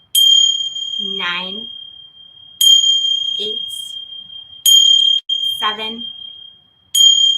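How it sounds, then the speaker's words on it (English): Tingsha chimes at a yoga retreat ring in bright, sustained strikes, four or five pure metallic rings each fading slowly, close and loud, while a voice counts down between them. "I also have the ting sha chimes, another great tool"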